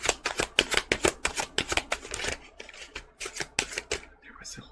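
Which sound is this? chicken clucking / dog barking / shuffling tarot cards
shuffling tarot cards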